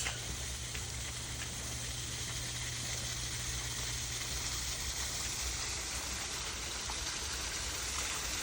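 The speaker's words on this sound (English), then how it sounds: "we walked over a little bridge to see a waterfall in a minute" Waterfall near a small bridge in a Kyoto garden, a steady broadband rush of falling water heard continuously, fairly close and even, with a low hum beneath and no voices.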